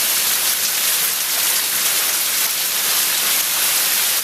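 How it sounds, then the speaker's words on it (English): Heavy downpour during Long Island flooding, rain pounding steadily on the ground and parked cars, a dense, loud, unbroken hiss with no voices. "At times the rain was so heavy you could hear it hitting the ground and hitting cars"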